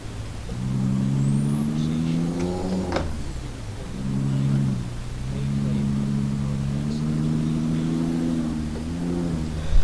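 Peterbilt 389 truck with an 18-speed transmission in Euro Truck Simulator 2, its engine droning and revving through repeated gear shifts, rising and falling in pitch, loud and close.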